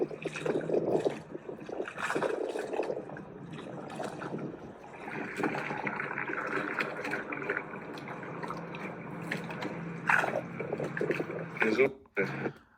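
Flowing water recorded on an iPhone: a steady trickling, dripping wash at moderate distance, continuous throughout, with someone talking over it.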